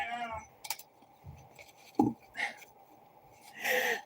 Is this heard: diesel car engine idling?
no